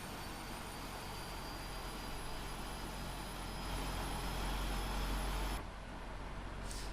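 Engine number 2 on a PMDG 777-300ER spooling up in the Prepar3D flight simulator, a steady broadband jet roar with a faint high whine, swelling slightly before cutting lower near the end.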